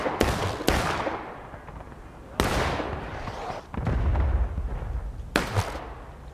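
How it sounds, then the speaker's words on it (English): Musket volleys from a Confederate line in War of Rights, several sharp loud gunshots spaced a second or two apart, each ringing out with a long echoing tail across an open battlefield. "So already they're starting to take some shots from the Confederate line."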